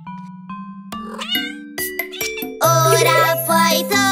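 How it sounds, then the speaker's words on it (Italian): A cartoon kitten meowing in a children's animated show, several high, bright meows rising and falling over light musical tones and chimes, close and clear. "Bel gattino."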